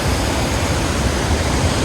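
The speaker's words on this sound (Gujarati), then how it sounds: "ધોધ છે ને બહુ હાઈ ફ્લોમાં આવે છે" A loud, dense roar of rushing water fills the clip without pause, like a powerful waterfall heard up close: the Padam Dungri waterfall in the Dang forest, Gujarat, in high flow.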